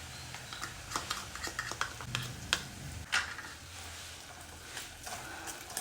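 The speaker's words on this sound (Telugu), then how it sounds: "ఇవన్నీ బాగా కలుపుకోవాలి అన్నీ మిక్స్ అయ్యేట్టుగా" Cluster bean yogurt masala being stirred in a pan, with a run of irregular spoon scrapes and light clatters over a faint, steady sizzle, no voices.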